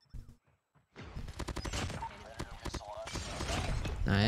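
A Peacekeeper rifle in COD Mobile fires a rapid stream of close, loud shots in short bursts, layered over other gunfire and game effects, after a brief quiet start.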